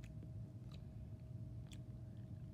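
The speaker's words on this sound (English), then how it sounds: "trying to chew the cardboard" Animals chewing on cardboard nearby, a steady low gnawing and crunching with a few sharper bites, heard alone over a constant background hum.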